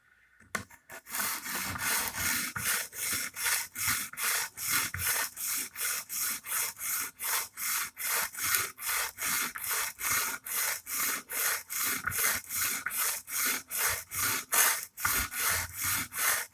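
An Emerson Karambit Tanto knife with a chisel grind is stroked against a sharpening stone, giving a close, steady run of rhythmic rasping strokes, roughly two per second, that goes on without a break for about sixteen seconds with no voices.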